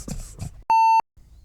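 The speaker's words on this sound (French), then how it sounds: "Fait qu'il va y avoir un bip, puis après ça, ça va partir." A single steady electronic beep lasting about a third of a second, clear and loud, with muffled sounds before it and a faint rustle after.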